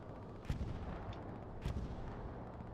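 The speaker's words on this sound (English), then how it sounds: "There were explosions in a couple of spots." Artillery explosions in the Hell Let Loose war game, two sharp distant-sounding booms about a second apart over a steady rumbling battlefield background, with no talk.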